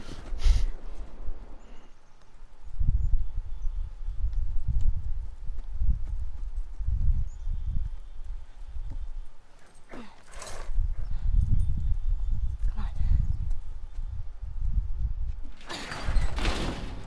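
Horse hooves clip-clopping in the video game The Last of Us, a steady rhythmic trot heard close up, with short bursts of other game noise at the start and near the end and no speech.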